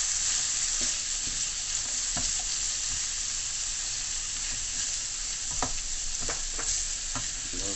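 Coconut curry shrimp sizzles in a pan while being stirred, a constant frying hiss punctuated by scattered scrapes and clinks of the utensil, no voices.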